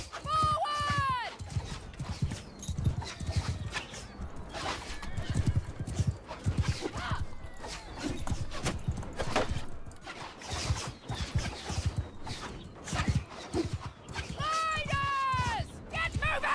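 Horses in the Bannerlord video game galloping in a steady clip-clop of hooves, with loud neighs and whinnies near the start and again near the end, under shouted battle commands and general clamour.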